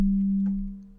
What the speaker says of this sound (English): using a sine wave and then having that little bell kind of sound is just really cool and pretty unique